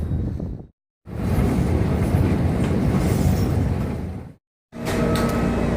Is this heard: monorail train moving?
yes